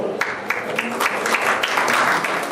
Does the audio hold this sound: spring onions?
no